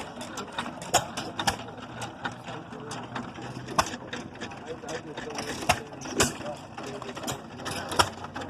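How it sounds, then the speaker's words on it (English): A 1914 United stationary engine of about 3 horsepower, with a heavy cast iron build, runs at an outdoor tractor and engine show, making a steady mechanical clatter of regular clicks and knocks while people talk nearby. "1914 United Engine Company."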